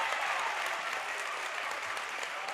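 A gym crowd at a high school 4A regional basketball tournament game reacting to a foul call, a steady wash of clapping and cheering from the stands that holds at one level throughout.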